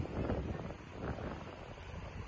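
Wind buffets the microphone on the wide, open Konkan beach at Diveagar, with a steady roar of surf beneath it. No one speaks.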